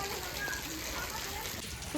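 Steady rain falling outdoors on the way into a village, a dense close hiss with scattered drop sounds, heard under a voice talking briefly.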